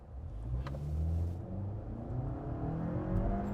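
A 2018 Toyota Camry SE accelerates from a stop, its engine droning and climbing through rising tones, heard moderately from inside the cabin with a brief click near the start and no speech.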